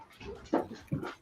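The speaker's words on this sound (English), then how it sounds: "someone just came in the house and the dogs just barked for a second" Dogs inside a house give a couple of short, sharp barks as someone walks in, two quick bursts at moderate distance with no talking.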